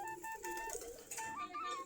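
Several pairs of native domestic pigeons coo softly in repeated low throaty calls, fairly close and alone with no voices.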